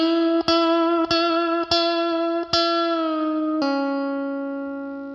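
An electric guitar plays a phrase from a guitar solo: a handful of bright, sustained, picked notes, each struck cleanly, with a bend and a pull-off, the final note ringing and slowly fading.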